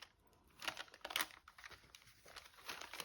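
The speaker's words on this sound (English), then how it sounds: "I just take this and I peel it back" An adhesive strip is peeled back to be applied along the spine of a junk art journal binder, giving quiet, crinkly tearing rustles in a few short bursts, close and faint.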